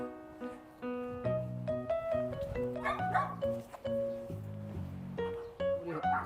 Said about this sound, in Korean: 강아지가 이렇게 요란하게 짖네.